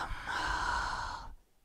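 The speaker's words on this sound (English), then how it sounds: "And when you exhale," A long, breathy exhale through the belly during a ballroom dance breathing exercise, steady and close, fading out near the end.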